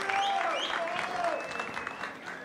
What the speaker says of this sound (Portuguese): Batendo palma, mais uma salva de palmas pro velho Vamp.